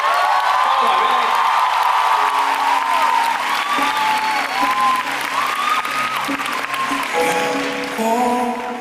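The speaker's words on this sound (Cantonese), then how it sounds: "呢個時候俾掌聲" An audience at a live concert applauds a female singer, with dense, steady clapping and scattered cheers that carry on throughout while music plays underneath.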